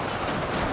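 Gunfire in the strategy game Total War: Shogun 2 Fall of the Samurai, a short, loud, dense burst of shots with no talk over it.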